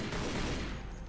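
A brief, continuous burst of gunfire from Tomb Raider: Legend, dense and fairly loud, sounding like overlapping rapid shots with no pauses.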